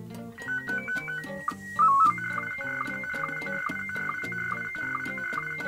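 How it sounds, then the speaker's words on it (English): SSTV test pattern image encoded as sound and played from a computer: harsh, rapidly warbling electronic tones in a dense, shifting stepped sequence, loud and continuous. "here's the computer with the test pattern sound on it"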